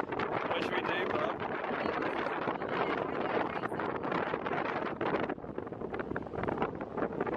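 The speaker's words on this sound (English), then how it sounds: "You probably can't hear me because there's a massive flipping storm coming." Storm wind on Fraser Island roars steadily into the microphone, a loud, unbroken rumbling buffet that persists for the whole stretch and swamps everything else.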